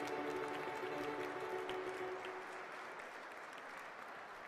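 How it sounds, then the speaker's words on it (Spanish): Applause for children during a Children's Day celebration, a steady wash of many hands clapping that slowly fades, with faint voices beneath. "¡Vamos a darle un fuerte aplauso a todos los niños y las niñas!"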